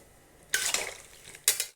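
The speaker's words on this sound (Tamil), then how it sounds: "இப்போ கலந்துக்கலாம்." Two short bursts of stirring raw banana curry in water in a pot, a spoon scraping and clinking through thick food, with quiet gaps around them.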